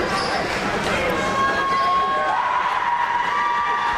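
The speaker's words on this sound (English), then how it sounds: "Crowd is getting loud" Crowd noise swells loudly and steadily through a women's college basketball game between Flagler and Emory & Henry during a late free throw, with a commentator talking over it.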